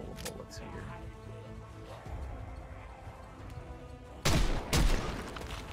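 A pistol fires two sharp, loud reports close together near the end, each a hard broadband crack, after several seconds of quieter background with a voice talking.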